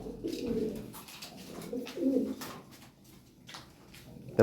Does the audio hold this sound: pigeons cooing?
yes